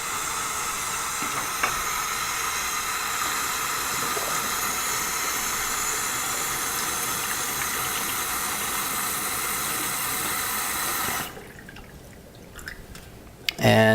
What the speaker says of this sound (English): I'm going to run some Kangen water in there.